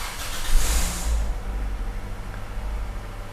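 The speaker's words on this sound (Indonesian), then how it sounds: "Kita nyalakan dulu mobilnya." A 2017 Toyota Corolla Altis engine starting: a short burst of starter whir and catch in the first second, then a steady low idle hum continuing alone.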